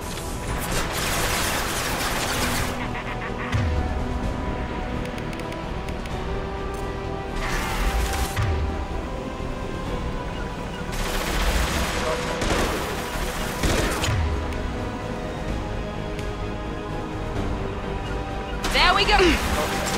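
Weapon fire in the sci-fi shooter Mass Effect 2 crackles in repeated bursts over a steady game soundscape of music and ambience, with loud volleys near the start and several more scattered through the fight.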